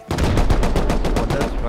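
Rapid automatic gunfire in the survival video game Rust during a base raid, a dense loud burst of repeated shots lasting nearly two seconds with no pauses.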